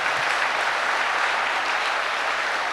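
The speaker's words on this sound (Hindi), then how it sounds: "यहाँ तालियां नहीं बजी अच्छे से, आलस कर करके बजा रहे हैं" Audience applause at an event in Pune, steady and continuous, with lazy, unenthusiastic clapping of even loudness and no talking.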